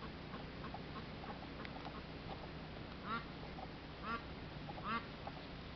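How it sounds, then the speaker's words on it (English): Three short duck quacks sound at spaced intervals over steady outdoor background noise beside a lake at a campground, moderately close but not loud. "This is a duck named Gally."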